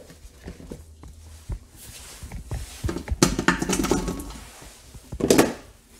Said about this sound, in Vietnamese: mình đổ sườn vào đây.